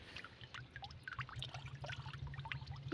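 Water being poured into a drum, heard as a faint, close trickle and gurgle that runs on steadily under a low background hum.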